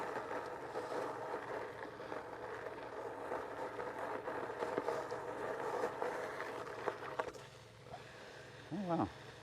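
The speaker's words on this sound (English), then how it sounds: "gravel riding" An Onewheel Pint electric board rolls over gravel, giving a steady broadband crunching rumble throughout, with a few sharper knocks and a brief rising tone near the end.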